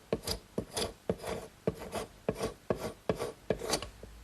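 Rhythmic scraping strokes across the edge of a curved wooden rail blank, about eight rasping passes in a steady back-and-forth cadence, close and fairly quiet with no talk.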